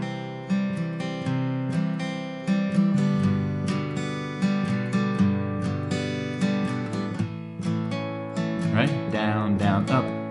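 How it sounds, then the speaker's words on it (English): Guitar in standard tuning, a pick lightly brushing a few strings in a rhythmic down-up strum. The chords ring out clearly and close, with no voice. "I'm only going to like brush my pick by a few of the strings."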